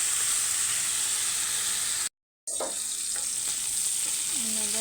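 Steak bites browning in a frying pan give a steady, hissing sizzle that cuts out for a moment, then continues with faint clinks and stirring.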